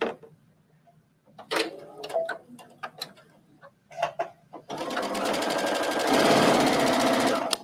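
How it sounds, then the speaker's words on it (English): A sewing machine stitches a fabric hem on a wrap bathing suit cover-up, first a handful of short separate clicks and bursts, then a loud, steady, fast mechanical whir for several seconds. "Okay, again, we're stitching from the right side."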